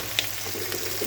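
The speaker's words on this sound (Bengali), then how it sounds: "পেঁয়াজটা হালকা ভাজা হয়ে গেছে" Vegetables, including radish and potato, tipped into lightly fried onions in a hot pan, giving a brief soft sizzle with a small clatter near the start over steady low frying hiss.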